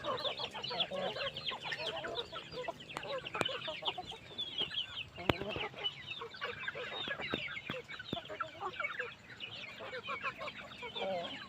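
Many chickens and ducks cluck and chatter continuously close by, with scattered sharp pecking clicks as they feed on scattered grass.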